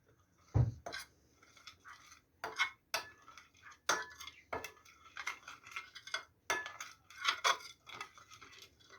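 A spoon scrapes and clinks around a bowl, mixing chili flakes, cumin and black pepper in a steady, uneven rhythm of light taps, close and fairly quiet.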